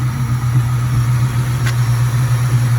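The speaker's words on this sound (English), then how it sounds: "Engine runs great." A 1996 Ford Mustang SVT Cobra idles close by with a steady, smooth low hum, even and quiet with no ticks or irregular knocks.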